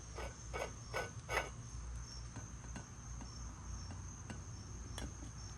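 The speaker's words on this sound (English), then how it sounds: "And that noise you hear is just this rocking on the cement," A new high-volume aluminum water pump for a small-block Chevy rocks on a cement floor, making a series of sharp knocks and taps, louder and quicker at first, then sparser and lighter, with a faint high whine behind.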